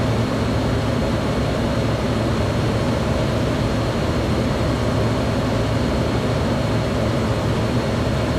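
Steady, loud broadband roar of an F-16D jet in flight in Microsoft Flight Simulator 2024, a constant engine and airflow rush with no variation or voices.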